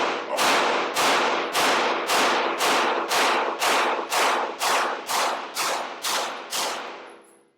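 A Turkish handgun fires about eleven loud, sharp shots at a steady, rapid pace outdoors, each crack followed by a brief decaying echo, with no talking.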